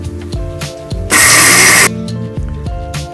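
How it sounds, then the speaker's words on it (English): A mixer grinder coarse-grinding whole cumin and fennel seeds runs in one loud, steady burst of under a second, with quieter kitchen clatter before and after. "this is the mixer grinder"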